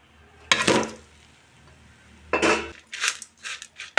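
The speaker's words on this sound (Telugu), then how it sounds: "ఇప్పుడు రైస్ వేసుకుంటాను." Cooked rice is tipped into a pan and stirred for pepper rice, with loud metallic scraping and clanking of a spoon against the pan in short bursts, separated by quiet pauses.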